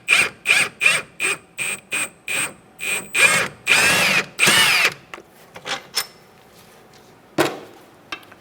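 Power tool with a 17mm socket removing a bolt from a 2004-2009 Mazda 3 rear control arm, a string of short, close, loud impact bursts in steady rhythm, then a few longer runs and scattered ratchet-like clicks.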